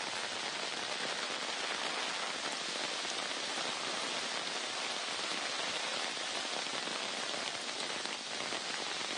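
Heavy rain pours steadily in the Chikkamagaluru hills near Datta Peetha, a dense, unbroken hiss of drops hitting surfaces from start to finish, loud and close with no voices.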